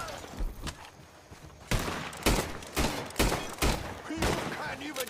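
Gunfire in the video game Red Dead Online: a string of loud, close shots, some in quick bursts, with one early shot and then several spaced blasts over the last three seconds, under faint background noise.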